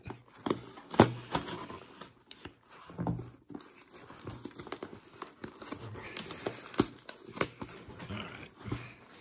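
Someone cuts through a package's plastic packaging, making scattered crinkles, sharp snips and tearing sounds in an irregular rhythm. The sounds are close but fairly quiet, with no speech.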